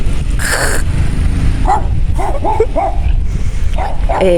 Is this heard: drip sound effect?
no